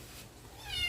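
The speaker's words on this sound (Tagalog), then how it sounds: "Sorry naman sa ingay ng aming pusa." A caged cat meows once, close and fairly loud, in a short rising cry near the end. The meow rises out of a quiet kitchen background.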